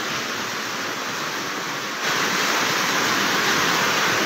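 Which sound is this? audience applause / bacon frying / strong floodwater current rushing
strong floodwater current rushing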